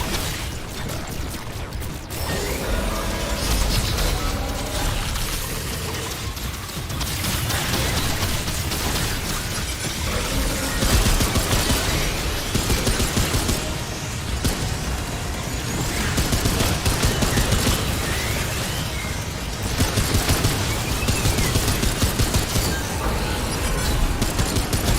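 Sustained, dense gunfire fills a Remnant 2 boss fight as a player shoots at the creature's center eye, a loud, continuous stream of shots with rumbling impacts throughout.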